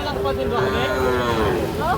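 A Sahiwal bull calf lets out one long, loud, close moo that holds steady for about two seconds at a livestock market in rain and mud.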